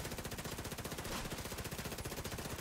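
An automated turret in The Division 2, Warlords of New York DLC, fires a rapid, unbroken stream of loud, evenly spaced shots close by.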